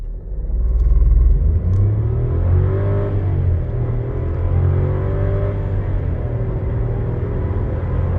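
A Seat Arona 1.0 TSI with 110 hp and a DSG gearbox accelerates hard toward 100 km/h, its engine note rising and dropping through quick gear changes over heavy road and wind rumble heard from inside the car.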